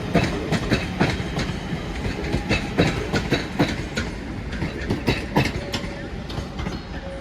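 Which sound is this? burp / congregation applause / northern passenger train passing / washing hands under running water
northern passenger train passing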